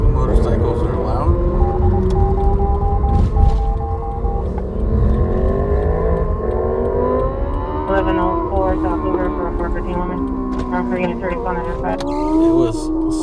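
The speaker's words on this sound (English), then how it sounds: "how loud is that motorcycle, dude? That thing's like 5 blocks away." Loud motorcycle engine revving from a distance of several blocks during a live Los Angeles police chase, its rising and falling whine sustained under talk and a background siren-like tone.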